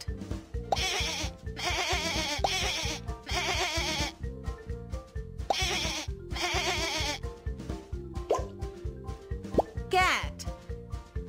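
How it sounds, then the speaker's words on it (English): Over bouncy, looping cartoon music, a goat bleats near the end, a short wavering cry. "Goat."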